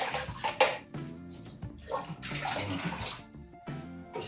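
Hot water pours and splashes into a Pyrex glass measuring cup during Belgian ale extract brewing, a close, steady rushing stream that breaks off briefly and resumes.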